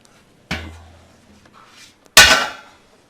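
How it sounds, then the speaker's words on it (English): A flathead screwdriver pries plugs out of a platform bed frame, making two separate sharp knocks with a faint click between them, the second one louder. "So I'm just going to use like a flathead just to get these out."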